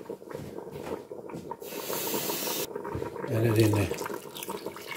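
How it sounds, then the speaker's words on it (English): Water splashing and hissing briefly into an empty coconut cream tin as it is rinsed, close and short, with a person talking over and around it. "I'm going to rinse the tin"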